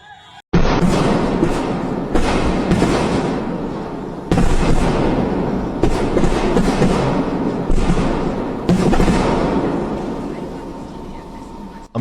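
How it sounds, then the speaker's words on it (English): Several loud, booming blasts go off in succession, each followed by a long rumbling roar that fades gradually, with no voices heard. "A massive explosion occurred right on the street"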